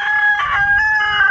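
A rooster crows among chickens on a hobby farm. One loud, close, drawn-out call carries strong tonal harmonics, with soft clucking and low farmyard noise underneath.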